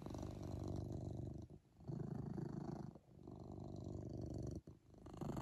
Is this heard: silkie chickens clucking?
no